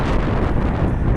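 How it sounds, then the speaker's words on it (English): Steady wind buffeting a camera microphone outdoors at an airport on a gusty, overcast day, a continuous loud low rumble throughout with no speech. "It's pretty windy"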